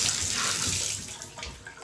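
Tap water pours steadily into a sink, a broad hissing splash that eases slightly toward the end, with no voices.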